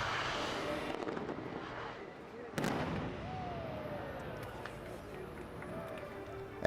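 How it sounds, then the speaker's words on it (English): Fireworks at the Epcot Millennium Celebration at Walt Disney World in 2000, bursting in the distance with a couple of louder pops amid a broad crowd wash and people talking nearby. "Nice fireworks."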